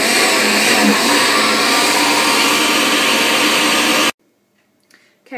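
A kitchen blender pulses through pumpkin soup, a loud steady whirring roar for about four seconds that stops abruptly, leaving near silence with a faint sound near the end.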